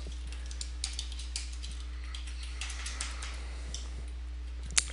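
Someone types on a computer keyboard, producing light, irregular key clicks with one sharper tap near the end, all over a low electrical hum.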